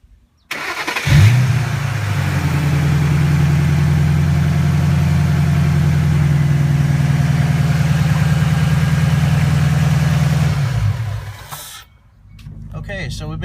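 A 2006 GT fitted with a JLT Series 3 cold air intake drives along with a loud, steady engine drone for about ten seconds, then fades briefly before the engine noise returns.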